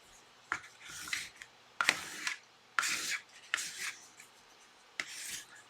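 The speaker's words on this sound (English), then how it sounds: "So I'm going to do it with a little smaller of a squeegee." A small squeegee drags matte medium across a surface in five or six short rasping strokes at close range, each a scraping smear with brief pauses between.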